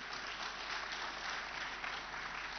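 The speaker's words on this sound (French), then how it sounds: "vous pouvez l'applaudir aussi" Applause from the audience in a conference hall at a Mediterranean strategy debate, a faint, even wash of clapping heard from a distance with no talk.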